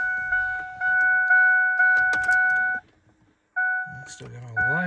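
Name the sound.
Ford F150 door ajar warning chime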